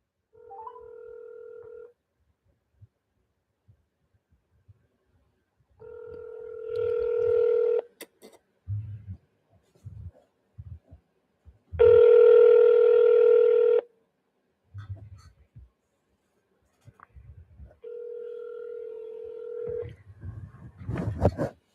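A phone call being placed: steady dial tones and bursts of touch-tone dialing beeps, separated by short pauses and small handling clicks, close and clear with no talking.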